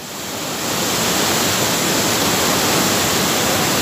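The flooded Paraíba river in Atalaia, Alagoas, running near overflow, gives a loud, broad, unbroken roar of rushing water that swells in over the first second and then holds steady.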